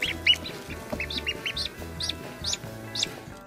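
Newly hatched ducklings peep in a quick run of high, bright chirps, about a dozen short calls spaced through the moment, near and clear over a low background hum.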